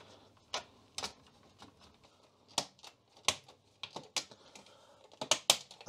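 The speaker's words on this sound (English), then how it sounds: "that's just to press these plastic clips into position." Plastic clips snapped into place while fitting an Amstrad CPC 6128 keyboard to its back plate: a series of sharp, irregular clicks and taps, close up, with quiet gaps between and no talking.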